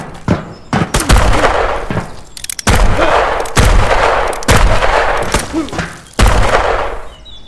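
Repeated loud gunshots ring out from a gun in a survival island video game. There are about seven sharp bursts at irregular intervals, each with a rumbling tail, over a steady background din.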